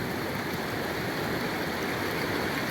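Steady rushing water pours through a gold sluice box set in a mountain river, a continuous broadband wash close by with no voices, unchanging for the whole stretch.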